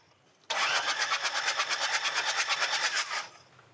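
A boat or vehicle engine on a road journey in Madagascar, just drained of flood water, cranks and fires loudly with a fast, even chugging rhythm for about three seconds before cutting off.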